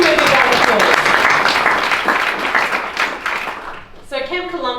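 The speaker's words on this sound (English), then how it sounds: "give me a big round of applause" Audience applause at a WWII symposium welcome, loud crowd clapping that fades over several seconds, with a voice speaking over it and then alone at the end.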